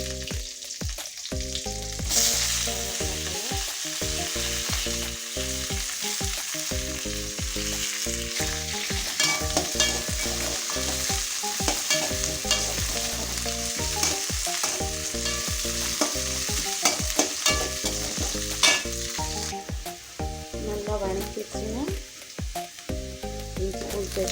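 Mustard seeds, cumin and dried red chilies sizzle steadily in hot oil, with a spoon repeatedly scraping and clinking against the pan in a busy, close-up stirring rhythm throughout.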